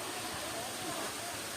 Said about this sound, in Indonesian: Itu air terjun Guguk Parahyangan.